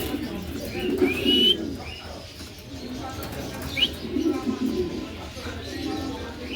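A pair of Burmese Beauty pigeons coo in soft, low, throaty bursts with brief higher chirps between them, close by and fairly quiet.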